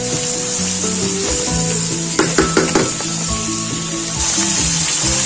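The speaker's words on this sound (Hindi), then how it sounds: "इस तरह मैं कलेजी को अच्छे से फ्राई करूंगी अनियन और लहसुन अदरक के पेस्ट के साथ।" Kaleji (goat liver) fries over a medium flame with onion and ginger-garlic paste, giving a steady loud sizzle with a few sharp scraping stirs partway through.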